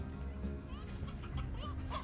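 Striped hens in the video game Slime Rancher cluck in short, soft bursts over a steady game soundtrack and ambience, with no talking.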